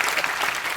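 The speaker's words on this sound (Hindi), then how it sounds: "एक बार गोविंदा सर के लिए जोरदार तालियां। ताली बजाओ भाई।" Studio audience applause for a guest's entrance on The Kapil Sharma Show, a dense, steady burst of clapping filling the whole brief moment with no voices.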